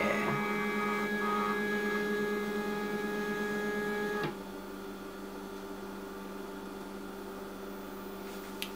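A MakerBot Replicator 2 3D printer heating up gives a steady electrical hum with tonal whine, which drops to a quieter constant hum about halfway through, close and uninterrupted without speech.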